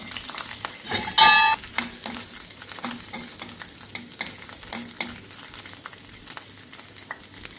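Coconut oil sizzling in a pan as five or six garlic cloves are dropped in and stirred, with a sharp metallic clink early on and steady crackling frying throughout.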